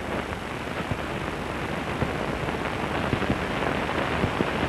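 Steady rain falls on a rooftop terrace in a 1951 film, a dense, even hiss of drops with scattered sharper patters and occasional louder splashes throughout.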